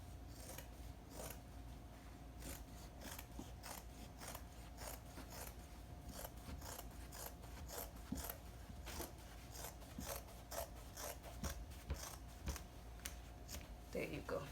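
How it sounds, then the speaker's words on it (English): Scissors snipping through fabric while cutting a half circle skirt, a long run of crisp, regular cuts and rustling cloth close to the listener, with quiet talk in the background. "Now I'm going to cut this off"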